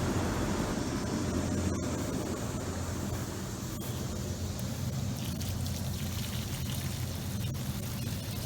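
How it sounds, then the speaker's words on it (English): Water pumped out of a greenhouse hydroponic lettuce bed with a small pump, a faint steady rushing and trickling wash that runs continuously with no talk. "I'm using the pumps that I use for the Dutch buckets to pump the water out"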